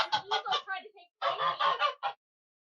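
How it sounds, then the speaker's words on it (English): A pet goose honks in rapid, loud nasal calls, a burst of about five honks, a short pause, then another run of four or five, close by and with no other sound. "Is that her or is that the goose yelling?"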